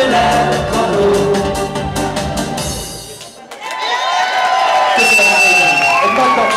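Audience cheering and whooping after a live Hungarian song performance, a loud continuous crowd roar that dips briefly midway and then swells again.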